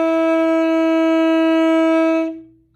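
A single sustained saxophone note played open with no keys pressed, loud and steady with rich harmonics, held about two seconds before fading out.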